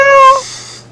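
A human voice imitates the meow of a glyptopod, a fictional creature, as a single short, bright, cat-like mew that fades out quickly, close to the microphone.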